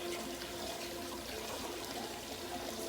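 Water poured into a pan of boiling Carolina Reaper chilli curry, a steady close rushing splash that holds at an even level for a few seconds with no talk.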